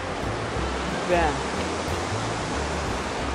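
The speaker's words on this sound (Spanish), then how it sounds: "Por ahí está la cascada" Steady, loud rushing water from a river and waterfall at Los Dinamos in Mexico City fills the scene, with a voice speaking briefly over the flow.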